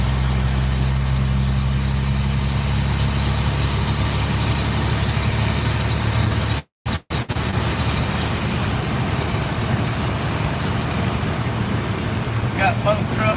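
An old Detroit diesel engine in a hay-hauling truck rumbles steadily and loudly close by, with a brief cut-out partway through and faint road noise behind it.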